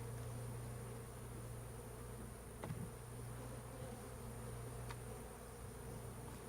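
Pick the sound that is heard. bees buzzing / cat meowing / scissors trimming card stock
bees buzzing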